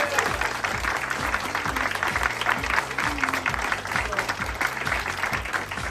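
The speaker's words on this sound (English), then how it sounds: "So let's give him a round of applause" An audience at a school district teacher award event gives a sustained round of applause, a steady wash of many hands clapping at moderate loudness, with a voice talking faintly underneath.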